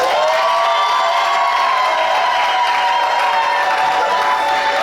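Loud crowd noise at a civil wedding, with clapping, cheering and shouting that carry steadily throughout, joined by some whistle-like tones.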